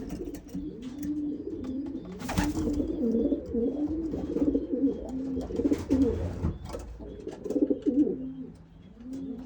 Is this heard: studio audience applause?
no